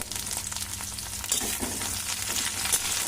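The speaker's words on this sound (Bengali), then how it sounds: "প্রথমেই আমি ফোড়নের জন্য দিয়ে দিচ্ছি রসুন কুচি" Chopped garlic, a generous amount, fries in hot oil in a wok with a steady, close sizzle and a few stirring scrapes. No one speaks.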